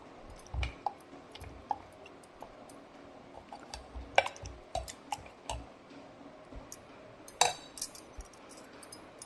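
A spoon stirs jaggery into milk for aval payasam, clinking and scraping against the pan in sparse, irregular taps, with a few sharper knocks standing out against a quiet kitchen background.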